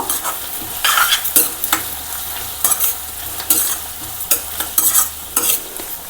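Okra and raw prawn curry simmers in a pan while a spoon stirs it in repeated bursts, each a wet scraping swish, all over a steady soft sizzle.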